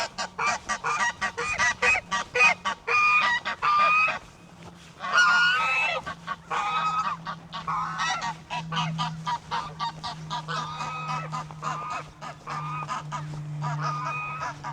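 Several geese honk loudly and repeatedly at close range, overlapping calls in rapid bursts with only brief pauses.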